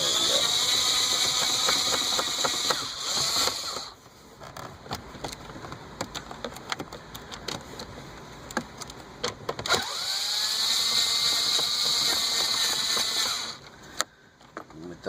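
A ratchet works on 7mm bolts at a Chevrolet Camaro radio, producing bursts of quick clicking between stretches of steady background hum.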